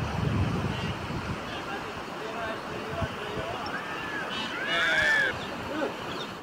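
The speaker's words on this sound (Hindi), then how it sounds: "देखिए, गुजरात के गिर सोमनाथ से ये तस्वीर है जहां पर लहरों का बहाव काफी ज्यादा तेज है।" Strong sea waves surge along the coast at Gir Somnath, Gujarat, heard as a rushing wash of surf and wind noise, with voices and shouting in the background.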